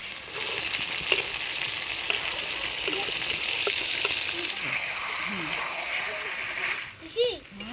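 Fried potatoes go into a pan of chicken curry being cooked down with spices at a cold-weather outdoor picnic. A steady close sizzle runs under faint talk, with occasional stirring scrapes and a brief splash near the end.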